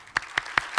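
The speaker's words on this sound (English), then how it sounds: "Applause for these guys." Audience applause at a beer industry talk session, heard as a short burst of three or four distinct loud claps in a quick rhythm.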